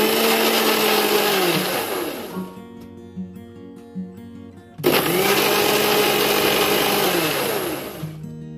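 A mixer grinder whirs loudly as it grinds henna powder into a hair-colour paste, running in two long bursts with a pitch that drops as it slows, and a quieter gap between them.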